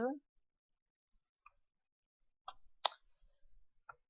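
A few scattered, crisp key clicks at irregular intervals, faint and sparse, with a short voice at the very start.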